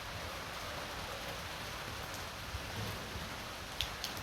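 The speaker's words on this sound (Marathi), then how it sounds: "बारीक बारीक थेंब पडलेत पाऊस यायला लागला आहे बघा बघा चालू झाला इकडे पाऊस" Light rain beginning to fall outdoors under a heavy overcast sky, a faint, even patter with a few scattered drops landing nearby.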